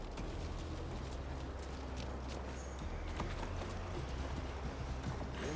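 Horse hooves clip-clopping as Eivor rides in Assassin's Creed Valhalla, a steady galloping rhythm held low in the mix beneath a constant rumbling background.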